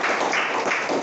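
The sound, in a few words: classroom applause for a student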